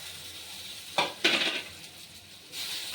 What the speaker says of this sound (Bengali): আর একটু সর্ষে ফোড়নে দিচ্ছি। তারপরে আমি এই আমগুলো একটু নাড়িয়ে দেব।